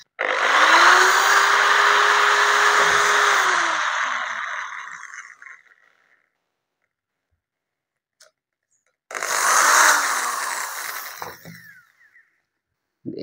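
A Bosch GBM 350 Professional 350-watt rotary drill bores into hard material in two bursts, a loud close whining grind of about five seconds that tapers off, then a pause and a shorter second run.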